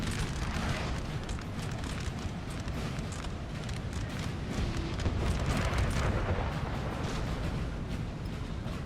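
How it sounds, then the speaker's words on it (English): Howitzer artillery in a Napoleon Total War battle, a sustained roar of overlapping booms and crackling blasts filling the whole stretch at steady loudness, with no voices over it. "Was that from their own howitzers?"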